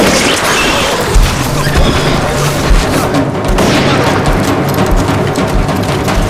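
Loud, chaotic action sounds from a Korean thriller movie with repeated booming gunshots and crashes, dense and continuous, with voices shouting underneath.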